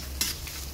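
Garlic and other ingredients stirred in a hot pan, with a steady frying sizzle broken by two short scraping bursts of the spoon, close and clear.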